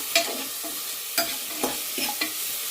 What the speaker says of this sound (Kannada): ಈರುಳ್ಳಿ ಹಸಿಮೆಣಸು ಎರಡು ಫ್ರೈ ಆಗಲಿ